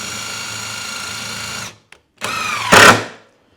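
Power drill whirring as it backs a 2-inch sheetrock screw out in reverse to ream wood, a steady close motor whine that stops, then restarts briefly with a harsh grinding surge before winding down.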